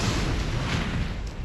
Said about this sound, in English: the Holy Cross Church blew up at exactly 7:35 p.m.